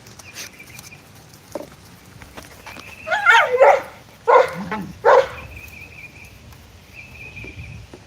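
Several dogs bark in short bursts, loud and close, grouped in the middle of the stretch, with quieter outdoor background before and after.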